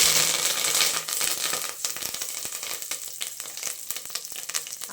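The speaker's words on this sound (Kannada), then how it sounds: "ಸೊ ಎಣ್ಣೆ ಕಾದ್ಮೇಲೆ ಕರ್ಬೇವಿನ ಸೊಪ್ಪು ಹಾಕ್ಕೊಂಡಿದ್ದೀನಿ" Curry leaves hit hot oil for a tempering, bursting into a loud, dense crackle and sputter close by that pops and spits continuously throughout.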